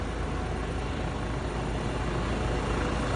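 A helicopter lifts off in a slow, cautious takeoff, its engine and rotor making a steady, loud, broadband roar that holds at an even level throughout with no pauses.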